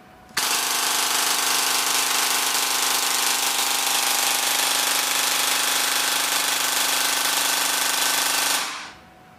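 An APS V2 airsoft gearbox, driven by an electric motor on a bench, spins up abruptly and holds a continuous high-pitched whirring mechanical whine at high RPM for about eight seconds, then winds down and cuts out.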